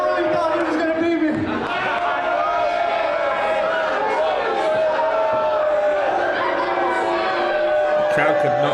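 A wrestling crowd at a London show reacts with loud, sustained booing and jeering aimed at the champion, a dense roar of voices filling the room from start to finish.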